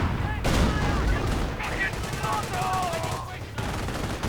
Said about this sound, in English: There's someone shooting very big guns behind us